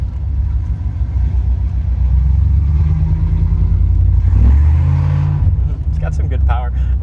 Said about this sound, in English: It's got some good power, and that exhaust is just a fun sound.